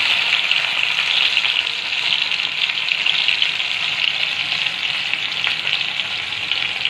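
Finely chopped tomatoes sizzle in a pan of frying garlic for spicy macaroni, a steady, loud, close hiss that runs the whole time with no talking.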